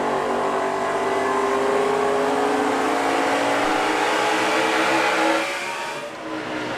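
NASCAR stock cars race around the track in a loud, continuous engine roar with rising and falling pitch, steady for several seconds before easing slightly near the end.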